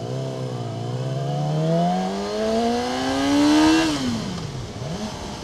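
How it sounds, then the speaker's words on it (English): A 2012 Yamaha R6 50th Anniversary sport bike revving close and loud, its engine pitch climbing steadily for several seconds, then dropping sharply and dipping before picking up again. "these things just build revs like nobody's business"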